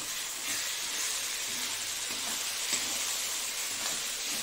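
Red chili, turmeric and salt sautéing in a pan for a fish and taro recipe, a steady close hiss of frying that holds evenly throughout with no talking.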